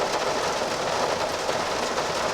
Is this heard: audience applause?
no